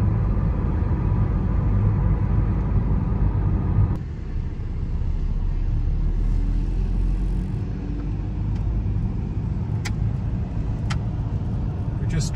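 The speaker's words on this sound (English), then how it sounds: "We're just driving over Westminster Bridge towards the Houses of Parliament." Car driving over Westminster Bridge in central London, a steady low road rumble and engine drone from inside the vehicle, continuous throughout, with faint clicks in the later part.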